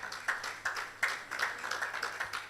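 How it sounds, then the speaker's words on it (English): Scattered clapping from a small audience at an awards ceremony, uneven and fairly faint, with a few claps standing out above the rest. "Please, let's keep clapping."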